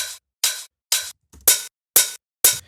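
Six crisp hi-hat hits in a steady pattern from the first hat sample of a drum mix, each a bright, short burst with a quick fade, played alone and close.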